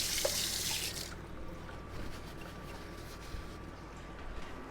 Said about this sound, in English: let's clean our paws